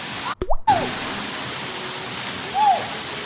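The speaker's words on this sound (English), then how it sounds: "I don't know how much you can hear me because of the waterfall" A massive waterfall roars as a steady, broad wash of falling water that fills the whole clip, with brief vocal sounds near the start and again near the end over the constant rush.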